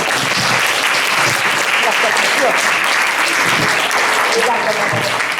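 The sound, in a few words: audience applause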